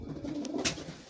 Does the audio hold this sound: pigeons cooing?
yes